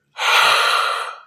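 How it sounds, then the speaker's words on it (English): A quick, sharp breath drawn in during a guided breathing exercise, a loud close airy inhale lasting about a second that rises abruptly and tapers off, with no talking over it. "Quick breath in"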